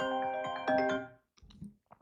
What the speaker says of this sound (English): I'm getting a phone call from my kids.